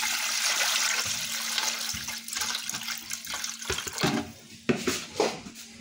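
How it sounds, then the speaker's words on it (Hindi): Water pours steadily into a pot with cardamom, cloves, fennel and cumin, about two kilos of it for steaming raan, a loud rushing splash that thins into irregular trickles and clinks near the end. "2 किलो पानी डाल देना इसमें।"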